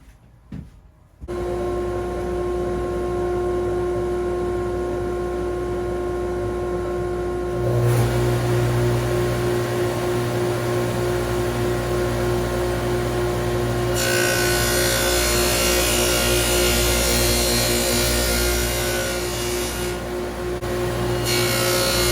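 A power saw blade runs steadily and loudly for about twenty seconds while cutting through a wooden floating frame, its tone shifting as the blade bites into the wood.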